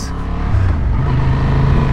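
A 750 cc, 92-horsepower Honda XL750 Transalp motorcycle engine rumbles close by and loud, its low note climbing as the throttle opens and then holding at a steady, strong drone.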